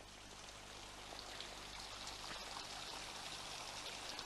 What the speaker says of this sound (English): they've made allowance for a stream coming down the mountainside